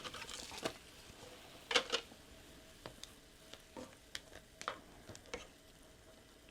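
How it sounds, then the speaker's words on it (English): Ramen noodles drop into a cooking pot, giving a run of scattered crackles, pops and light clicks, a few louder snaps among softer ticks. "I'm gonna go ahead and throw the noodles in."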